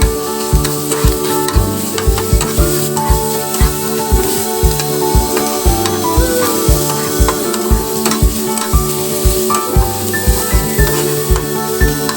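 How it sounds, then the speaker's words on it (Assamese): Onions fry in a pan with a steady, bright sizzle, while a utensil scrapes and stirs in regular rhythmic strokes close by, with music playing underneath throughout. "পিঁয়াজখিনি ফ্ৰাই হৈছে অলপ"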